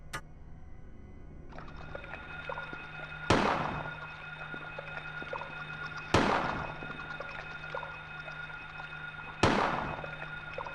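Three sharp pistol shots ring out in the 1999 Silent Hill video game, evenly spaced about three seconds apart, each a loud crack with a short decaying tail over a steady ambient game hum.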